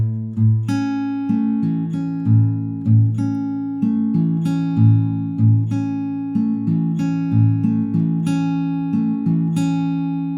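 Fingerpicked acoustic guitar playing the intro of a song, with a steady flow of plucked notes over ringing low bass tones, close and solo with no voices.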